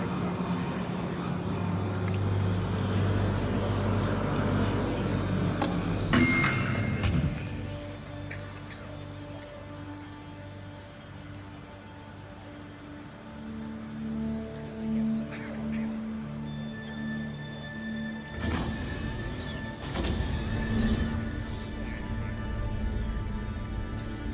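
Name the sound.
vehicle driving around a base in Star Citizen video game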